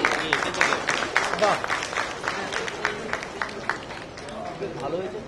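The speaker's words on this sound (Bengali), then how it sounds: "এটা জোরে হাততালি হবে।" An audience at a music launch event claps and cheers in dense, steady applause, with crowd noise mixed in throughout.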